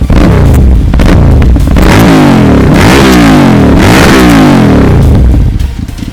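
A big motorcycle, a rare large-displacement bike in Lampung, revs hard and loud close by, with repeated rising and falling throttle blips that sustain throughout before easing off at the end.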